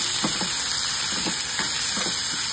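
Chopped white onion drops into hot oil with browned garlic, giving a steady, bright, close sizzle with a few soft stirring knocks underneath.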